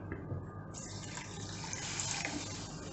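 Water pours steadily into sugar in a kadai while making syrup for ghee Mysore pak, a close continuous splashing flow that starts with a brief burst.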